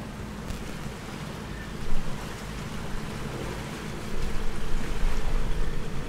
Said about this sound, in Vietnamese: sóng tàu container nó dập nè